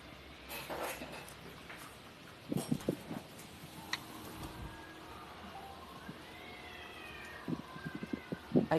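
Cats meow outside, several short cries and yowls rising and falling at intervals over a quiet indoor background with faint ambient noise.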